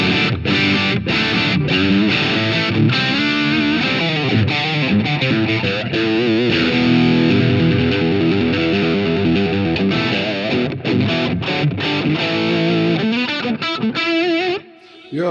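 Guitar amp driven into breakup by TubeZone overdrive, a loud, continuous distorted electric guitar played in chords and riffs with a thick, saturated tone, cutting out briefly near the end.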